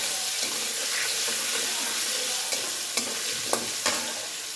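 Potatoes frying in the leftover oil after cauliflower was fried, a steady close sizzle with a few faint clinks of stirring, no talk.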